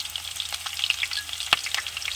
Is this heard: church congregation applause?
no